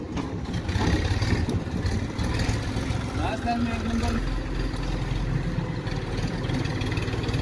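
A tractor engine idles in a steady low rumble at a mud-loading site, running continuously throughout, with a brief word spoken over it.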